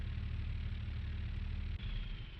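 A vehicle engine idles in Professional Farmer, a steady low rumble close by with a brief dip near the end, no talking.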